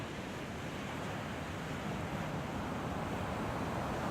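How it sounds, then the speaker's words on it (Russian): Pacific Ocean waves wash onto the shore at low tide, a constant broadband roar with wind buffeting the microphone and no voices. "Побережье, говорю, я на побережье океана."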